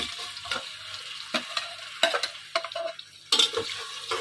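Onions sizzle and crackle in about a cup of hot oil while a utensil stirs and scrapes the pan in irregular bursts, close and moderately loud.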